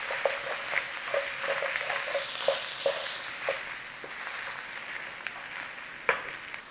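A good tablespoon of tomato paste being stirred into a pan for a smothered beef and potato bake. A soft, steady sizzle runs under regular light clicks and taps from the spoon. No talking.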